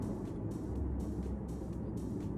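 A car engine drones steadily in third gear through a roundabout: a constant low rumble heard from inside the cabin, fairly loud and even, with no voices.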